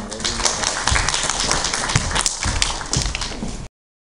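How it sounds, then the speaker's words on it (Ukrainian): An audience at a Ukrainian literary and arts society presentation breaks into sustained, dense applause welcoming a performer, loud and continuous before cutting off abruptly. "Запрошуємо з оплесками"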